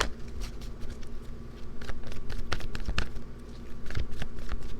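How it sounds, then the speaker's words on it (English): Crisp, irregular riffling and snapping of tarot cards being shuffled by hand, a rapid patter of soft clicks over a low background hum. "One more shuffle."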